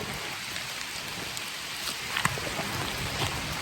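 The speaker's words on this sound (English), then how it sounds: "It's starting to rain out really heavy." Heavy rain pours down outdoors as a dense, steady hiss filling the whole clip, with a few sharper drop impacts near the end and no talking.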